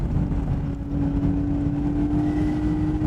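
Nissan Skyline GT-R engine pulling hard in third gear around 5000 rpm, a steady loud drone with a strong tonal hum, heard from inside the car with constant volume and no speech.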